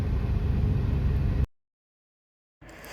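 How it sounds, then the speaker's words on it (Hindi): Low idling engine rumble of a car halted in Delhi traffic, steady for over a second, then a sudden cut to silence before the drone resumes more faintly. "क्या करें, अब खड़े हैं ट्रैफिक के बीचों बीच।"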